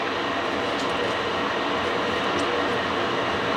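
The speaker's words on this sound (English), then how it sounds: "that's the kettle heating up more water" An electric kettle heats water in the background, giving a steady broadband roar that holds at an even level throughout with no break, like a distant rushing hiss.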